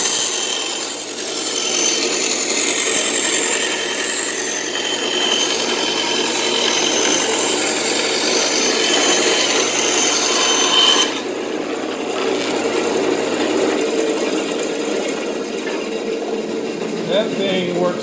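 A Craftsman 10-inch band saw rips through half-inch plywood with a steady, loud rasping whine for about eleven seconds, then the cut ends abruptly and the motor runs on more quietly while someone speaks over it.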